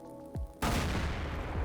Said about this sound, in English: This should be a pretty big explosion